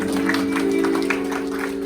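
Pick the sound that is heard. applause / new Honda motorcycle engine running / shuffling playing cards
applause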